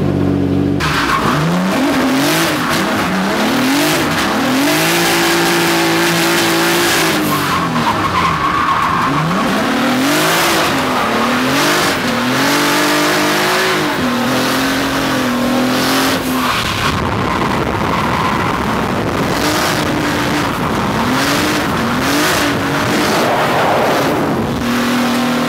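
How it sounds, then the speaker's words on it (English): A race car on a track day, heard from the cockpit: a loud engine rising and falling through gear changes and revs, with tyres squealing and skidding through corners, continuous and close. "let's go party in the race car"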